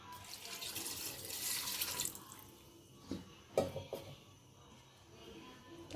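One cup of water poured into a pot while cooking masala kaleji: a rushing, splashing pour for about two seconds, then a few quieter splashes and light clinks.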